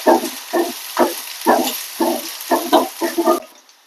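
Curry leaves and onions crackling in hot tempering oil for a brinjal yogurt chutney, with repeated bursts of sizzling and stirring at a steady rhythm, close up and fairly loud.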